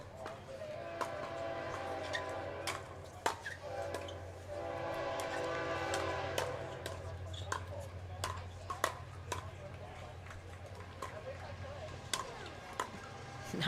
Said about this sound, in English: boxcar production's coming through. Hear that train. That's like the perfect sounding train.